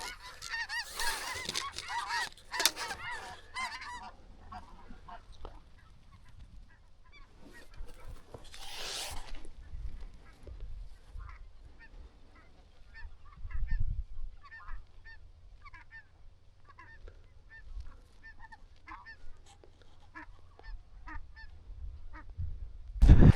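Snow geese honk in bursts, loud early on and then more scattered and distant, with a rustling noise partway through.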